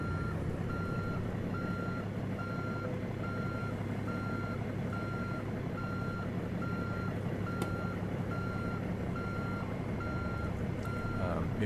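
Reversing beeps sound from a truck backing up in American Truck Simulator, an even series of evenly spaced tones over a constant low engine drone, with someone talking softly now and then.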